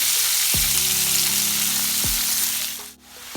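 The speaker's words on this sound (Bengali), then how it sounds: "এবার আমি শাকগুলো দিয়ে দিই।" Red amaranth greens hit a pan of frying onions with a loud, close, continuous sizzle, punctuated by a few dull clunks of utensils against the pan, and no one speaks.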